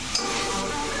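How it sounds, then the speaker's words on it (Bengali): Fish frying in a pan with turmeric and salt, a steady close hiss of sizzling oil with a light stir near the start, no voices. "1 চিমটে হলুদ আর নুন দিয়ে ভাজছি। মাছগুলোকে নেড়ে ছেড়ে দিচ্ছি,"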